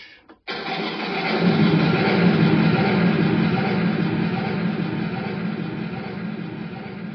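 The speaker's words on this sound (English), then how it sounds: "So I use this thunder crash." A broad thunder crash with heavy echo bursts in after a brief pause, then rolls on as a long, heavy wash of rumbling noise that slowly tapers.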